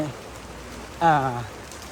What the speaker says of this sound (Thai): โอ้บรรยากาศฝนตกใช่ไหม